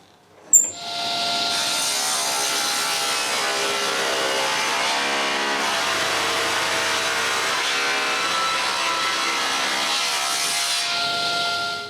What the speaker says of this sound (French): Je refends donc mes planches en deux.